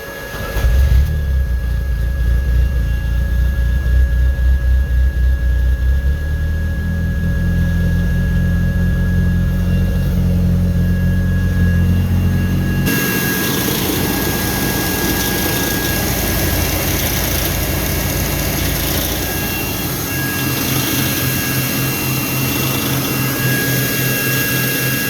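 A supercharger blower whines on a 1991 Chevy S10 pickup over the idling engine, a steady loud drone that shifts to a brighter, harsher hiss midway and holds constant, with no one talking.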